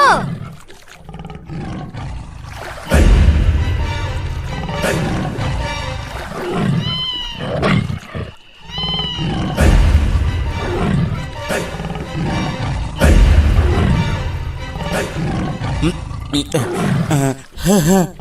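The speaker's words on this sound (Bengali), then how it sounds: "ওই দেখো, বাঘে ডাকছে" A tiger roars repeatedly near a river where a boat travels, deep rumbling calls rising and falling over roughly eighteen seconds, mixed with people talking and other animal or music-like sounds throughout.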